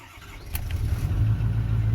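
A Ford 6.4 Powerstroke diesel with injector trouble starts after its glow plugs have run: a brief crank gives way to a loud, low, rumbling idle close by, with no talking.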